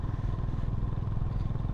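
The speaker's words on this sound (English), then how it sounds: "Man, this exhaust note is coming so nice. If you can hear it, exhaust note is very nice." A Honda H'ness CB350 motorcycle thumps out a deep, steady exhaust note while riding, a close, loud low rumble with a continuous rapid pulsing beat and no voices.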